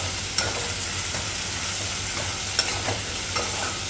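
Onions for semiya upma sauté in a pan with a constant soft sizzle, broken by a few light clicks of a spoon stirring against the pan.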